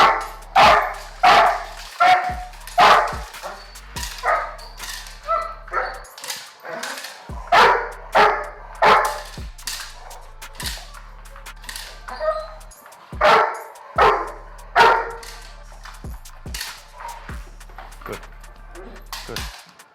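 A drivey 8-month-old Doberman Pinscher puppy barks in loud, repeated bursts with short pauses, some yips mixed in, close by while a person talks in the background.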